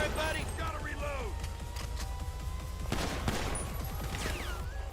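Heavy machine gun fire in the GTA5 video game, rapid bursts of shots running steadily through the whole stretch over a loud rumbling bed, with a voice talking over the gunfire.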